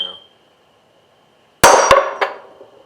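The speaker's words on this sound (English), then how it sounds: "Get hit with my metal hammer now." A metal hammer strikes a car differential part during a limited-slip differential install on a Ford Focus ST, giving three sharp, loud metallic clangs close together, ringing briefly after a quiet pause.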